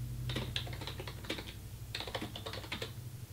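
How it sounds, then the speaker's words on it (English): Rapid typing on a computer keyboard in bursts of quick key clicks, close and fairly quiet over a steady low hum, with no talking. "It's hard to type and talk at the same time."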